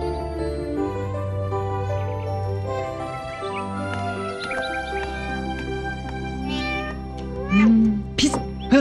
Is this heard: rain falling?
no